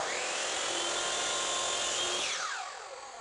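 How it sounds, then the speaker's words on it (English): Saw blade making a short trimming cut at a miter box in a woodworking shop, a loud continuous whining cut for about two and a half seconds that then winds down. "I'll make a trimming cut at the miter box"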